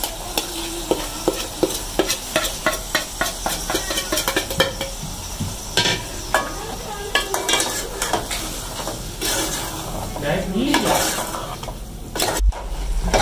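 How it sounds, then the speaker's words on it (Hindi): Keema mince cooks with spices, tomatoes, peas and green chillies in a pan, with a low sizzle under repeated scraping and clanking of a spoon against metal, close and busy throughout. "ये देखिए अब हमारा कीमा भुनाई पे आने लग गया है"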